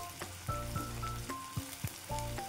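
Onion frying in oil in a pan, a soft continuous sizzle with occasional stirring scrapes and clinks, heard close and alone.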